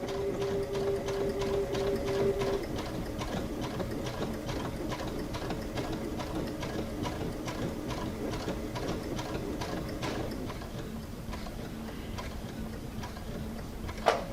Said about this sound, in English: I'll stitch my 1/4 inch seam.